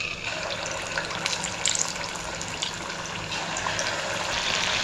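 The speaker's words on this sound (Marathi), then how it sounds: "आता आपण इथे छोटी छोटी भजी सोडूया तेलामध्ये." Small sabudana bhaji fritters for a fasting-day snack go into hot oil in a pan and fry with a steady, fairly loud hiss and crackle throughout, with no talking.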